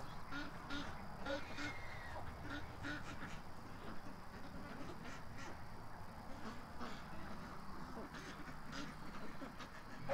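Ducks quack in an agitated, continuous chorus, alarmed by a visiting Canada goose, over steady outdoor noise with no clear talk.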